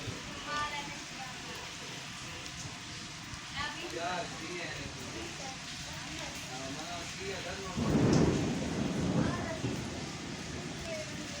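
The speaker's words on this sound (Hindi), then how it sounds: "बारिश हो रही है।" Heavy rain pours steadily outdoors, with a low thunder rumble swelling near the end, while someone talks over the downpour.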